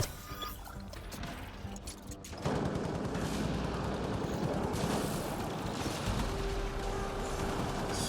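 Dense, continuous gunfire erupts in a Mass Effect Andromeda multiplayer match, a loud sustained roar of rapid shots after a brief quieter stretch with a few scattered reports.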